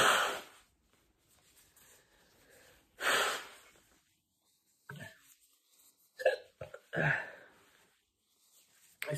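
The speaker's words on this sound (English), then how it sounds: "I don't think the first chip made me hiccup like this" Several sharp hiccups from a person after eating a spicy chip, spaced irregularly over a few seconds with quiet breathing between them.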